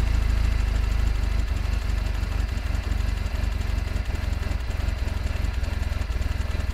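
A Toyota Previa minivan engine idles steadily with a low, throbbing rumble, its even pulsing continuous throughout, close by and fairly loud, with no clear revving.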